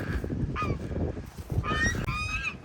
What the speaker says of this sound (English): We're just gonna let these ducks and the goose do their thing right there.